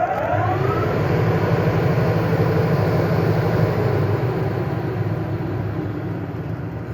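A Dayton 3 HP three-phase steel exhaust blower runs steadily, a loud continuous broadband whoosh with a low motor hum, close and constant, with no voices.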